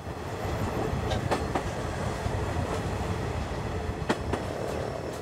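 A steam train runs beside the fast-flowing Kuma River in Kyushu, Japan, giving a continuous rolling rumble with sharp clicks and clacks from the rails. Steady and moderately distant, with no talking.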